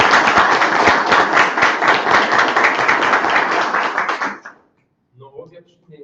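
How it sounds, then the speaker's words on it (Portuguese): Formal meeting attendees approve by acclamation with a dense, loud round of clapping that runs about four seconds and then stops abruptly, leaving a few faint voices. "eu fiquei olhando e bateram palma. Isso significa um sim."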